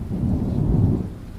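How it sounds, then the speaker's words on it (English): Thunder rolls in a deep, heavy rumble over a mountain setting, loud and sustained with a soft rain wash beneath, swelling and then slowly fading. "we just sat there, me, Sam, and Ellie, listening to thunder crack and roll like it was crawling over the mountains."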